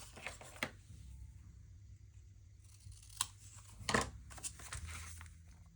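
Scissors snipping paper craft material for a Christmas shop model, a few quiet scattered cuts and a cluster of crisp snips with light paper rustling, faint and close.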